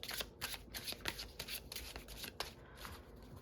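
A deck of oracle cards is shuffled by hand, giving a close, soft flurry of riffling and sliding card sounds in quick repeated bursts, with no speech.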